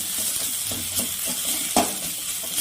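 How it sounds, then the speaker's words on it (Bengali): Ginger paste, turmeric and chili powder spice masala frying in a pan, a steady sizzle broken by scraping stirs and a sharper clink of the utensil near the end, up close with no talk. "মশলাটাকে ভালো করে কষিয়ে নিব।"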